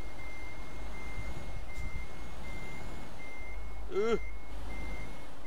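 A truck in Euro Truck Simulator 2 sounds its steady reversing beeper, a clear repeating electronic tone over low engine rumble, with a short vocal exclamation breaking in partway through.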